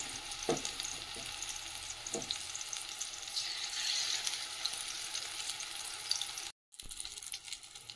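Fish frying in hot oil in a pan, likely topshe fish, with a steady broadband sizzle throughout, a few brief clatters early on and a short break near the end before the sizzling resumes.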